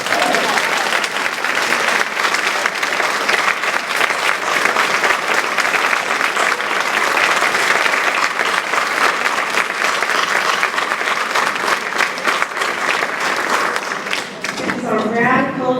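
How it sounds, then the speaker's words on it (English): Audience at an alumni recognition brunch applauding in a long, dense burst of clapping that stays loud and steady before fading near the end, with some voices mixed in. "Round of applause."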